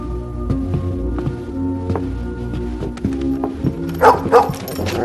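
Dogs bark in short, sharp bursts near the end, loud and close, following several seconds of clattering steps and movement indoors.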